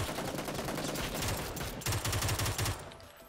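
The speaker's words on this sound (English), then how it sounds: "I'm just shooting wildly." Rapid automatic gunfire in the shooter game PUBG, dense bursts of close shots that rattle on for about three seconds, then cut off.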